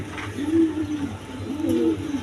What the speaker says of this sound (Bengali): এখানে এক পেয়ার ফ্যান্ডাল কবুতর আছে আমেরিকান ফ্যান্ডাল কবুতর